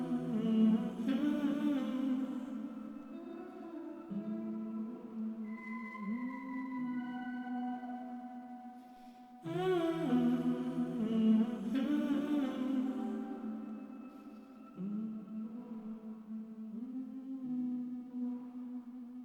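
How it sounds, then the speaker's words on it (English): A dark ambient vocal sample loops twice, each pass a sustained, layered voice-like tone with gliding pitches that swells and fades, playing alone with no talk. "the first thing I found was this vocal loop from Splice"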